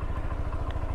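A stock Honda Giorno scooter engine runs close by with a steady, low, throbbing idle and a faint mechanical clatter over it.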